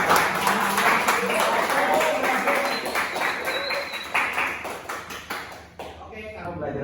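Students in a classroom applaud during a microteaching session, a dense burst of clapping that thins and tapers off toward the end while voices carry over it.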